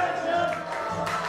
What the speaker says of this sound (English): Now you hear the crowd. Sentiments. The crowd chanting for Harry McDonald.